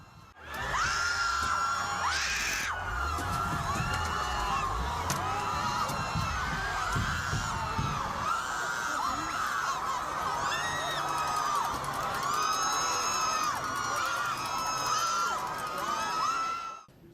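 Protest crowd in Los Angeles crying out and screaming in panic as a U-Haul truck drives into it, a dense, steady roar of many voices with sharp shrieks and shouts rising again and again, fairly distant and unbroken.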